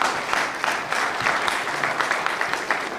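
An audience at a League of Women Voters candidate forum applauds after opening statements, a steady moderate clapping with a few louder individual claps standing out.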